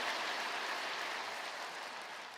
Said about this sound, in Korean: 귀한 찬양으로 은혜를 주신 우리 배단위 찬양대에게 뜨거운 감사의 박수 한번 주시기 바랍니다.